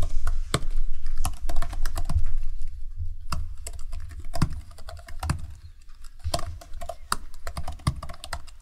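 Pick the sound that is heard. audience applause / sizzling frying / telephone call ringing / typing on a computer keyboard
typing on a computer keyboard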